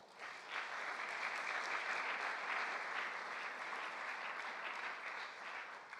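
A church congregation at a Sunday worship service breaks into sustained, dense applause that builds quickly, holds steady for several seconds and then tapers slightly.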